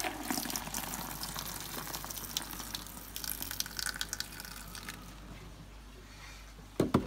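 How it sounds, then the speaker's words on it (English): Water pours into the plastic jug of a Vax Dual V Advance carpet shampooer, a steady, fairly quiet splashing trickle that fades, ending with a couple of brief clunks. "I'm going to pour some of the water into the jug"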